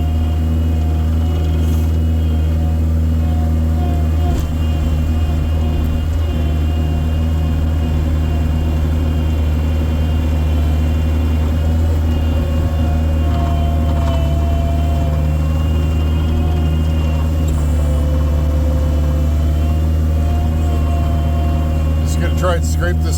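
A tractor engine drones steadily and loudly while backblading snow with light pressure, a constant low hum with a faint mechanical whine on top and talking heard over it.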